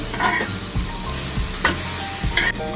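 Food fries and sizzles in oil in a pan, a loud, steady crackle with repeated scraping stirs of a utensil against the pan and no voices.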